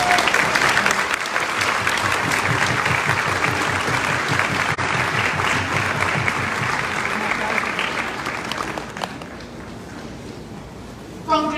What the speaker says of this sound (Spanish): Así que dense un aplauso.